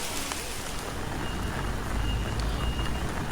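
A tour bus backs up at a scenic coastal stop in Taiwan, its reversing beeper sounding in faint repeated pulses over a steady, loud wash of idling engine and outdoor traffic rumble.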